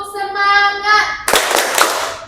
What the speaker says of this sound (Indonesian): Feby, tepuk semangat.